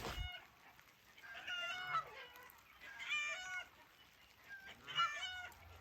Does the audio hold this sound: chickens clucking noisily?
yes